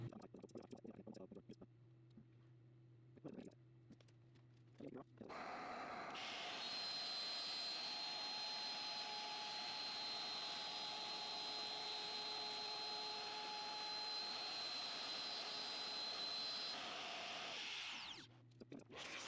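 A Shaper Origin handheld CNC router cutting a wooden door during refurbishing, a sustained loud high-pitched whine lasting over ten seconds, preceded and followed by quieter handling noises and short clicks.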